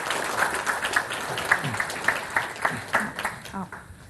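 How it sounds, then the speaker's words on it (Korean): An audience at a Microsoft developer keynote in Korea claps in a steady wash that tapers off after a few seconds, with some voices mixed in. "큰 박수 부탁드리겠습니다"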